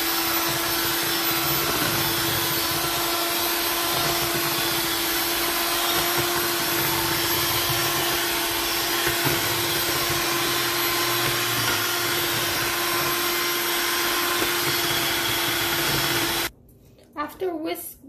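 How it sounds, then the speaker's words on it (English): Electric hand mixer whisking Guyanese fruit cake batter, a loud steady motor whine running unbroken for most of the clip, then cutting off abruptly near the end. "I'm gonna use the machine. I'm gonna be whisking this away."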